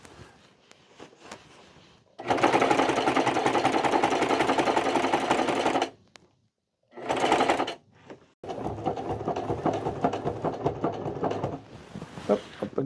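A sewing machine stitching a leather Boy Scouts of America Haversack 573, running in several long steady bursts separated by brief stops, close and loud.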